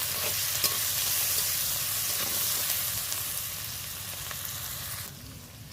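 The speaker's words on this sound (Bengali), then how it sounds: "পেঁয়াজ আর রসুন আমি একসাথে ভেজে নেবো" Sliced onion and garlic fry in a pan with dried red chilli and panch phoron, giving a steady soft sizzle with occasional stirring clinks and no talk, fading slightly near the end.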